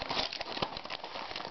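Someone tears open a sealed packet of dried stevia herb, giving a close, dense crinkling and ripping of the wrapper that lasts about a second and a half, with no talk over it.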